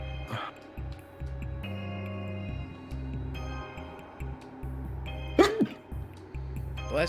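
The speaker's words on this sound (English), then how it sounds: "Damn, you're sneezing a lot, dude." Sneeze sound effect played from a soundpad over steady game music, a couple of sharp sneezes standing out, the loudest near the end, with quieter noises between them.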